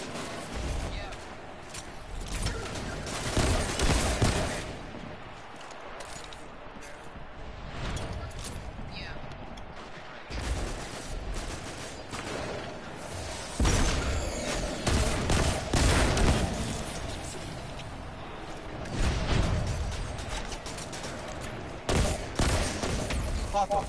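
Bursts of hand cannon gunfire pound repeatedly in an intense, noisy video game firefight, with loud shots recurring every few seconds under overlapping voices.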